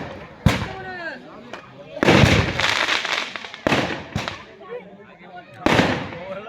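Fireworks and firecrackers burst loudly at a village kabaddi final match, with a sharp crack first, then clusters of close bangs and crackling pops, repeated several times under a crowd's hubbub and a voice.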